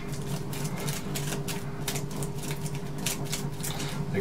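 Cards from the Pathfinder Adventure Card Game are shuffled by hand at a table, giving a run of soft, rapid papery flicks and riffles that continue steadily with no speech.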